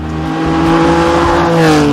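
A Lamborghini Countach supercar's engine roars loudly up close, a harsh rising drone with the pitch climbing steadily as the car accelerates hard, and no voices.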